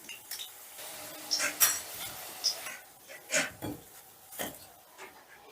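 Fried potatoes lifted out of a pan of oil with a metal utensil, a series of irregular scraping clinks and taps against the pan over a quiet background.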